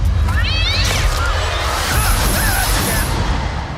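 A cat gives a few meows, bright and warbling, that sit close and loud over a busy background. No one speaks.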